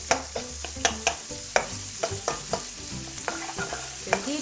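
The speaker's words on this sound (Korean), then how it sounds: "들기름이 소고기에 담뿍 배일 수 있도록 열심히 볶아주겠습니다" Beef stir-fried in perilla oil in a pan: close, steady sizzle broken by a run of sharp scraping strokes and clacks as the utensil works the meat, with no voices.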